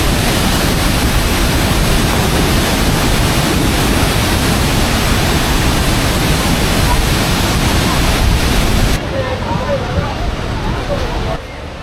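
Rushing water from the Detian waterfall, a large cross-border falls on the China–Vietnam border, pours as a loud, dense, continuous roar heard up close, with wind buffeting the microphone and a slight drop in level near the end.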